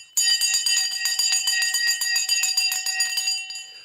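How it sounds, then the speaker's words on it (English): A trading-floor opening bell rings loud and close in rapid, steady strokes for nearly four seconds, then cuts off abruptly with no voices. "Right, the bell's gone."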